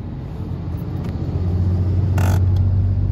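Heavy trucks pass on a road in Solano, Nueva Vizcaya, in North Luzon, making a continuous, loud, close engine rumble that swells slightly, with a brief higher hiss near the end.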